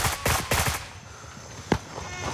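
A short burst of automatic rifle fire in the shooter game Gray Zone Warfare, a quick string of sharp reports followed by a pause and one more isolated shot, fairly close and punchy.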